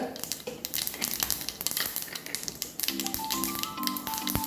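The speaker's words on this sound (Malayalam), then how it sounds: "വെളിച്ചെണ്ണ വെച്ചിട്ടുണ്ട് ഞാൻ രണ്ട് മണി ഉലുവ കടുക്" Fenugreek and mustard seeds spluttering in hot coconut oil for a tomato curry tempering: dense, steady crackling and sharp popping throughout, close and loud, with a faint tonal hum entering in the second half.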